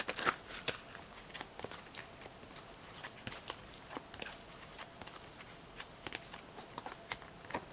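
Tarot cards shuffled by hand, a steady run of soft, quick riffling flicks and taps repeating across the whole stretch, close and fairly quiet with no talking.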